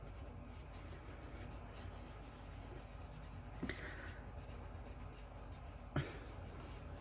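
Quiet, close rubbing and scratching as a transfer is burnished onto a mold, soft continuous friction strokes with a couple of brief sharper scrapes, no talking.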